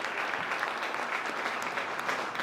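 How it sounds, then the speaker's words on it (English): Warm applause from a crowd at a talk in a mosque, a dense continuous patter of clapping heard close and steady throughout, with no voices over it. "Let's give her a round of applause."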